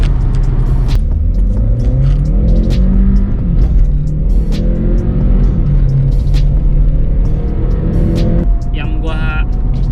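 A compact VW Polo with 250 Nm of torque accelerates hard with several occupants on board, its engine rumbling loud and steady throughout while people inside talk over it.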